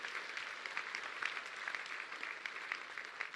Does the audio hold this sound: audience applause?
yes